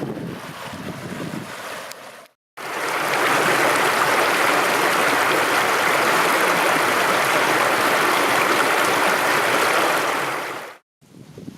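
Steady rushing water, a loud continuous wash of Bear Creek flowing close to the microphone at a crossing, with a brief cut of silence before and after.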